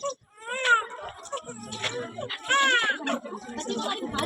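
A performer in a nursing-college skit mimics a feverish infant crying, giving wavering wails and whimpers in short bursts that blend with other voices talking throughout.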